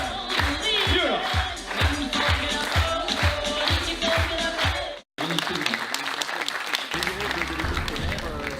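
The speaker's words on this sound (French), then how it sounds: "On peut continuer à applaudir, hein, on peut continuer à applaudir" An audience claps through a long stretch, with music and a voice audible over it and a brief cutout midway before the clapping and sound resume.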